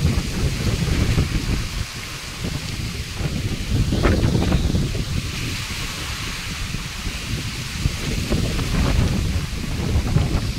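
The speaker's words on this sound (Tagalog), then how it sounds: "Grabe, ang lakas ng hangin." Powerful wind rumbles and gusts in loud, uneven surges by a resort's infinity pool in Baclayon, Bohol, with a rain-like hiss mixed in; continuous and close, no talking.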